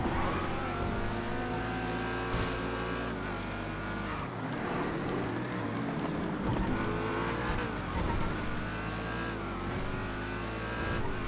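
A Sentinel XS car engine revs hard while racing in GTA FiveM, loud and close, with rising and falling gear-change sweeps and tire squeal throughout.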